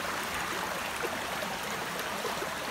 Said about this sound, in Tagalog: nandito ako sa may sapa again